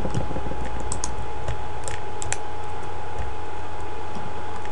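A few sharp, separate key presses on a computer keyboard, the Windows key then X, click out close and clear over a quiet room hum, with no talking.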